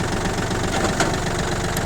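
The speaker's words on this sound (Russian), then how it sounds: "при нажатии на педаль трактор сразу же отзывается резким набором оборотов" A Yanmar F-220 tractor engine runs close and loud at a steady, rough idle with a constant low throb and no clear rise in revs.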